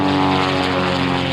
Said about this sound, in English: That's those guys right straight overhead.